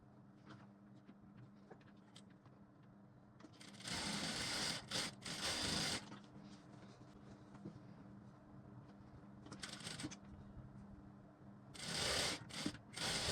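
A sewing machine double-stitches the shoulder seam of a long Garba-style blouse in bursts of rapid, rasping mechanical whirring, quiet pauses between runs, with no talk.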